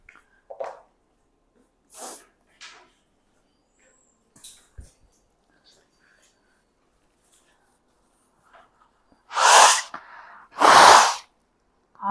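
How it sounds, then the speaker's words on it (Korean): Someone wearing a clip-on microphone blows their nose during a high-school math class, a few faint sniffs and small noises first, then two loud, close, forceful blasts near the end. "마이크 끼고 코를 풀다니"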